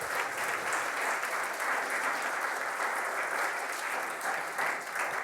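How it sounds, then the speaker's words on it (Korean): A church congregation at a Sunday service claps steadily to welcome a missionary to the front, the dense, even applause filling the room without a break and with no speech over it. "우리 선교사님 나오실 때 박수로 환영하도록 하겠습니다."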